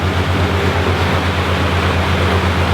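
A sailboat's engine roars steadily at full throttle, around 2800 rpm, a constant loud drone with a strong low hum and no pauses.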